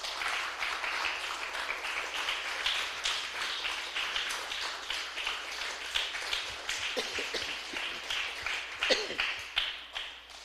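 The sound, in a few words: church congregation applauding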